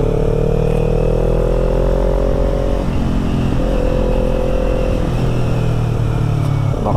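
A Kawasaki Z400 motorcycle being ridden, its engine droning loud and close, with pitch shifting as it speeds up and eases off through gear changes, and no talking.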